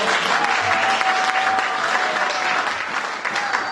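A church congregation applauds, dense steady clapping filling the room loudly for several seconds with a faint murmur of voices underneath.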